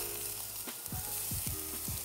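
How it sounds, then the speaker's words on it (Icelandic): Prawns and zucchini sizzle on a grill with a steady, close hiss and crackle, with several sharp pops rising through it. "Byrja að grillast fallega."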